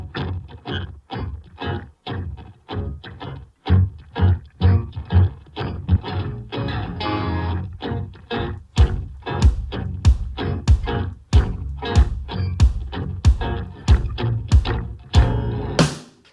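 Two or three clean electric guitar tracks, one pitched down, play a plucked, rhythmic part of steady repeated note attacks, close and clear, with brighter picking taking over in the second half.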